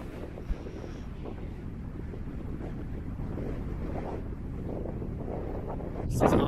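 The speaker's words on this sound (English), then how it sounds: "Oh man, it's so windy." Strong wind blowing hard into the microphone, a continuous loud roar and rumble that swells near the end.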